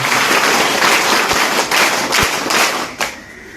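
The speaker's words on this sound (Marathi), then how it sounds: "एकदा जोरदार सगळ्यांनी टाळा वाजवला पाहिजे" An audience applauds at a school supplies distribution event for ashram school students, a dense, loud burst of clapping that holds steady for a few seconds, then begins to thin out.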